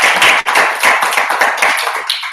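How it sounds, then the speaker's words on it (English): A small room of people at a Toastmasters club meeting gives the club president a quick round of applause, close, crisp clapping that tapers off within a couple of seconds. "A quick round of applause for our president"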